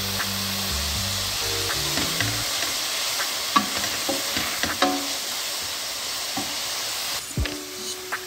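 Leek sizzling in olive oil in a pan as the base for a chicken pie filling, a steady close crackle with scattered stirring scrapes and clinks, no talking.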